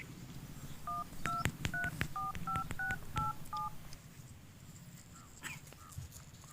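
Telephone keypad tones from a number being dialed, about ten short paired beeps in an irregular rhythm, clear and close, over low background room noise with a dog barking faintly, then the line falls quiet.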